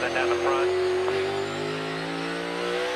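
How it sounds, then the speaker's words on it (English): A NASCAR stock car's V8 held at high revs on a road course as the driver stretches the gear rather than shifting, a loud sustained whine that falls slowly in pitch, with light talk underneath. "You can hear Kyle Busch really wringing that gearbox out, not wanting to shift."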